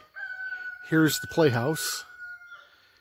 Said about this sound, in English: that mean rooster crowing in the background